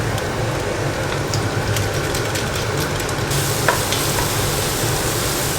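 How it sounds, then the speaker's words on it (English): Ground meat for a bolognese ragu browning in a hot pan, a steady dense sizzle with a few faint scrapes and clinks, loud and close, no talk. "You can see how the meat is releasing all its liquid. Look at the beautiful browning."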